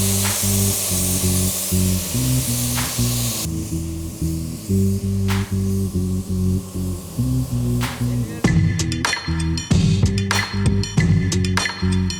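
A spray gun hisses in repeated bursts over a steady humming compressor drone as paint goes onto a Peugeot 106 GTI under repair, close and loud, with no talking.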